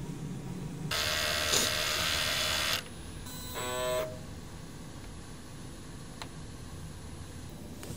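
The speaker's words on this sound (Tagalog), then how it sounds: "So, head clean muna na tayo" A DTF printer runs a print head cleaning cycle: a steady mechanical whir lasts about two seconds, then a shorter stepped, buzzing motor sound follows before the room falls quiet.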